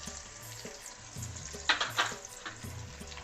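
Poppy seeds tipped into hot oil already holding mustard seeds, green chillies and garlic, crackling and sizzling steadily up close, with a brief louder burst of spitting as they hit the pan.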